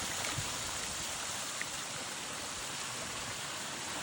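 Waterfall spilling from one section of a koi pond into the next, a steady broadband rush of falling water that stays constant and fairly soft throughout, with no voices.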